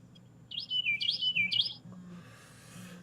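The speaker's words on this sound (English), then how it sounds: "Can you hear that bird?" A single bird sings a quick, bright warbling phrase at dawn, fairly close, followed by a faint hiss and soft low murmur.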